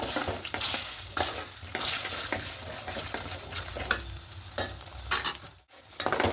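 Egg curry masala is stir-fried in a pan, heard up close as repeated rhythmic scraping and stirring strokes over a steady sizzle, with brief pauses between strokes and no talking.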